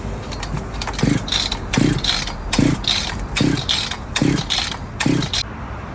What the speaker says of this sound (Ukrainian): Смикаємо до першої спишки.